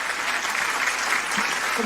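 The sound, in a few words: applause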